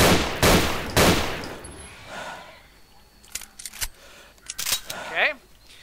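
Gunfire in the video game Misery 2.1: two loud, sharp shots near the start, then fainter scattered cracks and clicks further off, with a brief vocal sound near the end.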